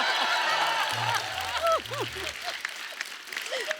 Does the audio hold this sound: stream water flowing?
no